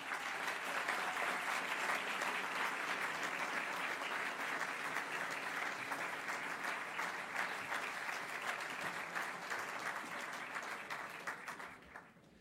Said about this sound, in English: a warm applause for Sean Michael Whelan.